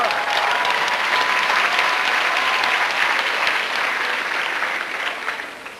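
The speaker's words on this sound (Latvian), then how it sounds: "Paldies jums par aplausiem" A concert audience at a Baptist song festival in Liepāja gives sustained applause, a dense, even wash of many hands clapping that fades slightly at the end.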